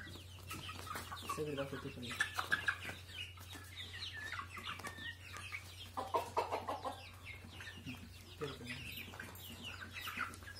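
Desi chickens on a village poultry farm, clucking and chattering in several bursts close by over a steady low hum, with someone speaking briefly between them.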